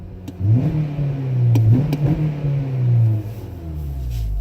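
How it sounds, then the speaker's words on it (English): A 2014 Honda Civic Si engine revs up from idle, climbing and falling in pitch a couple of times with close, throaty intake tone before settling back to a steady rumble. "So even from just revving the engine,"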